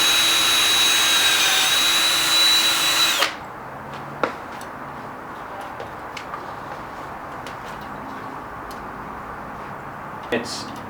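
Close, loud power drill whirring steadily for about three seconds before cutting off, followed by quieter workshop background with a few clicks; used while working on a homemade go-kart after a bit broke.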